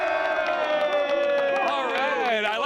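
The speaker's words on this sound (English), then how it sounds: "I like that cheer that time. That was a little louder that time." A high school baseball team, the Bishop O'Dowd Cougars, shouts a loud group cheer together at close range, with whoops and rising yells near the end.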